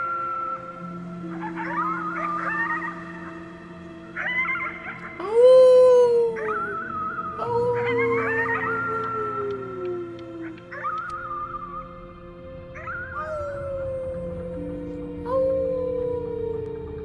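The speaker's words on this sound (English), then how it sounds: "You howled at the moon." A drawn-out howl sounds in the video game Before Your Eyes, with rising and falling wails over sustained musical tones, the loudest swoop near the middle and softer whimpering cries trailing off.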